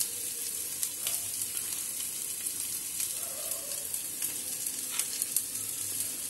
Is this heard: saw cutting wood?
no